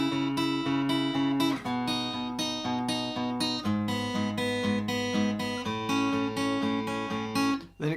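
Guitar playing the first two bars of the chorus of a song, a steady, clear run of sustained picked notes and open strings ringing together, close and with no voices.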